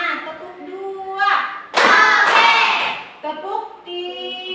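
Schoolchildren in a classroom clap together on a teacher's cue, a short loud burst of hand claps and thumps between stretches of children's voices and a teacher calling out.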